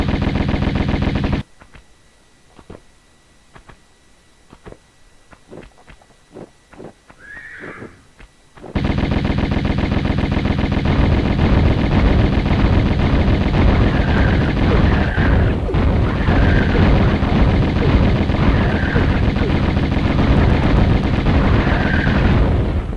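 Uzi fire in Tomb Raider's Sanctuary of the Scion level: a quiet stretch with scattered clicks, then a loud, dense, sustained burst of rapid gunfire that runs for the last fourteen seconds.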